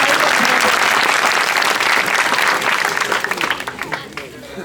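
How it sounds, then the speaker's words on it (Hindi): Loud, dense applause from a crowd at a political rally swells at full strength, then thins and tapers off toward the end. "जोरदार तालियां बजा करके"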